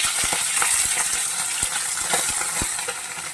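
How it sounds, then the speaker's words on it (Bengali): Small chela fish fry in hot oil in a pan, giving a continuous sizzle broken by several sharp clinks of a utensil against the pan, close and alone without speech. "মাছগুলো ভাজা হয়ে গেছে দেখুন উল্টে দিলাম"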